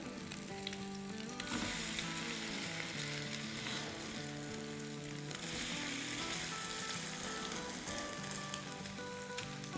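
Minced meat and egg cutlets fry in a pan with a continuous, busy sizzle and crackle, the spattering swelling at moments over about ten seconds, with no voices.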